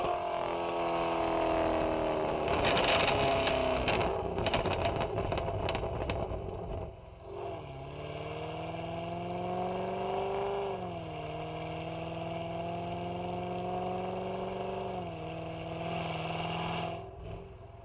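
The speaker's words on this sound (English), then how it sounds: "I'm about to do a pull in first gear up to 5k RPM" A Gen 5 LT engine in first gear revs hard up toward 5,000 RPM with a loud, rising roar and a burst of sharp crackles. The revs then fall away into a steady, wavering drone, close and with no voices.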